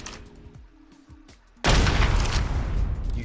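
A rocket launcher fires in ARK Survival Evolved: after quiet clicks and a short hum, a sudden loud blast erupts and becomes a sustained roaring rush.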